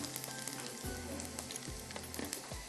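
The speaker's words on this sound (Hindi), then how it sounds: "ये भी थोड़ा सा फ्राई हो जाएगा" Cumin seeds and garlic fry in oil in a pan for baingan masala, making a close, continuous sizzle with crackling pops throughout.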